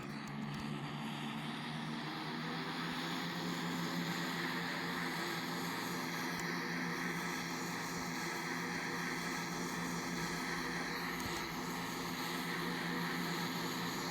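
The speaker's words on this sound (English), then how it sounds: "And then just select another light aircraft of your choice," Light propeller aircraft in the PTFS video game, its engine droning loudly and steadily throughout as it takes off, with no talking.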